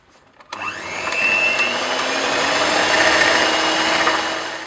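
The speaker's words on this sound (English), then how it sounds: "Whisk the mixture strongly and you'll see the volume increase a bit and the mixture will start to thicken as well." An electric mixer whisks a mixture in a bowl, starting abruptly after a short quiet moment and then holding a loud, steady whirring drone to the end.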